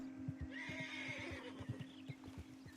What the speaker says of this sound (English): Get this horse over here.